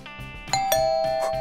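A playground doorbell sounds a clear ding-dong chime whose second tone rings on steadily over soft rhythmic background music.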